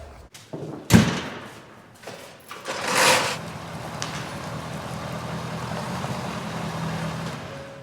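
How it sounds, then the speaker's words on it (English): A single heavy thud near the start as a door shuts on a snowy day, followed by a steady low rumble and hiss of background noise. "close the door so I don't let out any more heat"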